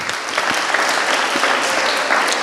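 Dense, continuous clapping from a congregation at a Christian gathering, loud and steady throughout with no voices breaking through.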